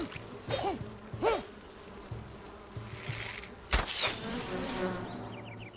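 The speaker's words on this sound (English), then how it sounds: "I hear the bees." Buzzing bees in the video game Enshrouded drone continuously with a few louder swells as they pass close, plus a sharp impact thud midway, all alone without talk.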